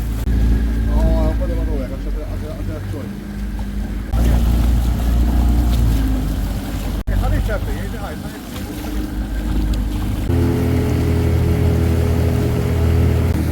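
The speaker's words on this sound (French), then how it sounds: "J'adore aussi les petits bateaux." Small boats idle and putter in Valletta harbour, a low steady engine rumble with wind buffeting the microphone, shifting in tone as the vessels move about the quays.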